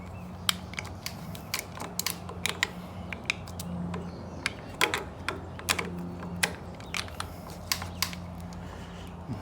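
Small metal screws are driven back in by hand while reassembling a part during a grip installation and internal clutch adjustment, heard as a series of faint, close clicks and ratcheting ticks at irregular intervals over a low background hum.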